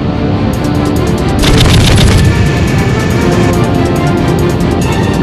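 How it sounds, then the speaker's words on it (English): A loud, sustained warning burst of rapid fighter-jet cannon fire, evenly repeating shots layered over a dense roaring rumble. "Give warning burst with cannon."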